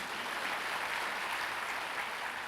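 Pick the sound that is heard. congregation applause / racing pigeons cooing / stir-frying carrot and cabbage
congregation applause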